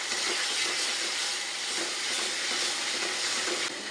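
Turmeric, chilli powder and coriander powder sauté in a pan for a drumstick curry, giving a steady, loud, close sizzle throughout with a faint scrape near the end.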